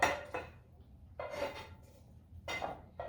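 A spoon or spatula scrapes an egg bake mixture out of a frying pan into a baking dish, three or four short clattering scrapes of metal against cookware, close by and separated by brief quiet gaps.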